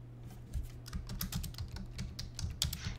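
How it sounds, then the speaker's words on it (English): Rapid, hard typing on a computer keyboard, dense irregular clatter of keystrokes running the whole time, close and fairly loud, with a steady low hum underneath and no voices. "That just sounds like anger rant typing."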